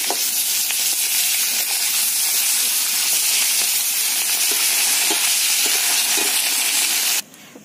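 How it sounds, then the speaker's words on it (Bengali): Loud, continuous sizzling of a fish head deep-frying in hot oil, a dense crackling hiss that holds steady before cutting off abruptly near the end. "মাছের মাথাটাকে কড়া করে ভেজে নেব"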